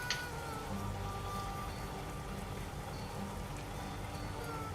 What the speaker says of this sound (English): Oh good, now it starts raining.